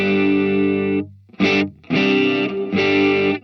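Semi-hollow electric guitar played through a shimmer reverb pedal, three loud sustained chords with a short stab between them, bright octave-up shimmer ringing over each, no talking.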